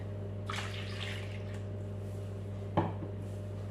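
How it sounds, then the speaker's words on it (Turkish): Warm milk and warm water poured into a bowl over sugar, heard as a short soft liquid splash followed later by a brief clink or splash, close and quiet over a steady low hum. "şeker tozumuzu ilık sütümüzü ve bir de ilık suyumuzu töküp"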